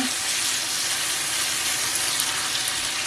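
Canned sweet peppers sizzle loudly in a hot pan as they are stirred, giving a continuous, even frying hiss with no pauses.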